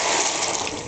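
Spinach penne pasta pours into a pot of hot water, a brief, loud, continuous rushing splash with no voices over it.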